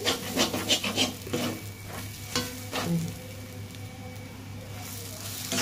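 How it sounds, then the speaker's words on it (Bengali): Dry spiced Bombay duck (loitta fish) mash stirred in a pan, a steady run of scraping and rubbing strokes with a faint sizzle underneath, clustered in the first few seconds and easing off later. "আর একটু বাকি আছে, নাড়তে থাকতে হবে, নাড়তে নাড়তে শুকিয়ে যাবে পুরোটা।"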